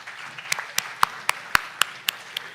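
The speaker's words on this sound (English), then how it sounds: "I like to start with an applause, and I want all of you to applaud for yourself for just being here." A school event audience gives sparse applause: about nine distinct, evenly spaced hand claps ring out over a quiet hall, crisp and moderately close, with no chatter.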